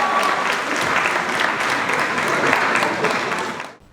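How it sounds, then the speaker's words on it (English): Audience applause at a gala evening, full steady clapping from a seated crowd that holds strong and then cuts off abruptly at the end. "Let's give him a hand clap."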